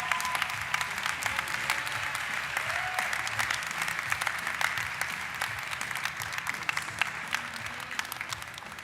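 Enthusiastic audience applause fills a general session hall in Washington DC, a dense, steady wash of clapping that holds at full strength throughout with no talk over it.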